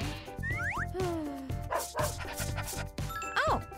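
A cartoon dog yaps and barks in short springy bursts mixed with sliding whistle-like cartoon effects and background music, several quick barks spread across a few seconds.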